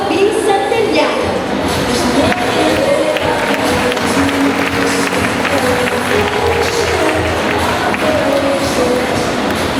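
An audience at an anniversary church gathering in the Philippines applauding for a bishop, dense steady clapping from a crowd with voices mixed in, continuous and loud.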